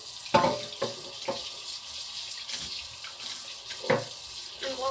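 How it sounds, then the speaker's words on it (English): Tap water running steadily while hands are washed under it, a constant close hiss broken by several splashing bursts, with faint voices in the background. "Let me wash my hands."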